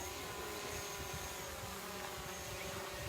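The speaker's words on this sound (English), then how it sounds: "someone's just put a drone up behind me." A drone flying overhead in an outdoor park gives a steady, buzzing whine that holds evenly throughout, alone with no talk.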